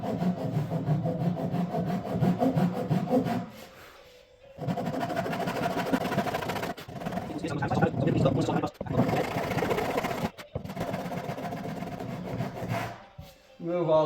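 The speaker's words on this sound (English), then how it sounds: "I'll score down with a saw" A hand saw scores down into wood, giving a steady rasping back-and-forth stroke that runs close and loud, broken by short pauses between bursts of cutting.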